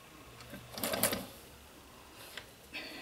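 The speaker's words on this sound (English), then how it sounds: "we're going to top stitch up each side." A sewing machine top-stitches close to a fabric edge in short, quiet bursts of rapid needle chatter, with soft clicks between runs.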